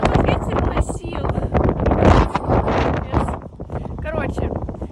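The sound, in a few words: wind blowing into the microphone outdoors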